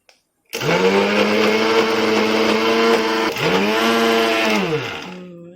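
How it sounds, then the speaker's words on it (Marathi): A mixer grinder whirs loudly as it grinds a spinach kabab mixture, starting abruptly and running close up for several seconds, its motor pitch dipping briefly midway before it winds down and stops. "चला आपण हे वाटून घेऊया."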